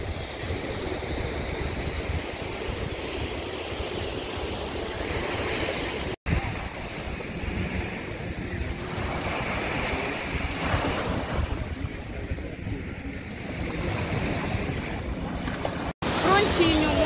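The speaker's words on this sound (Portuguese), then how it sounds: "Aqui tudo isso praia de Macumba." Waves break and wash continuously on the beach at Praia da Macumba, a broad roaring surf with heavy wind buffeting the microphone, loud and close with no talk.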